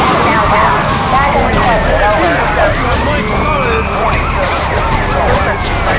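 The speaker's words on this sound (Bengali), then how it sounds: "এই পুলিশের গাড়ি" Police car sirens in the video game GTA Vice City wail in overlapping rising and falling sweeps amid chaotic game noise, loud and continuous throughout.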